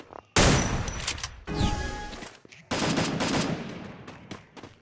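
Bursts of gunfire from the Free Fire mobile battle game, including an M590 shotgun, crack out loud and close in several rapid volleys separated by short pauses.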